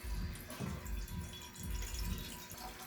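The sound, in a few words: pouring water into a cooking pot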